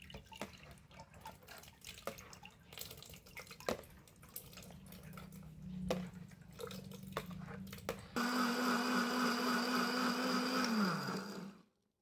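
An electric blender whirs loudly and steadily as it blends passion fruit seeds, then winds down and stops; before it starts, a few faint drips and small clicks can be heard.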